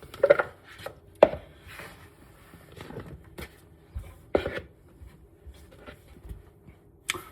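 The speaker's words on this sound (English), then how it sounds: "One peeled, small dice shallot." A knife dices a peeled shallot on a cutting board in a kitchen, giving sparse, irregular taps. A few sharper knocks stand out over a quiet room background.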